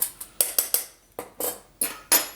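A utensil stirring flour and Old Bay seasoning in a bowl, giving a series of short, sharp clinks and scrapes in an uneven rhythm, close and fairly clear with no talk.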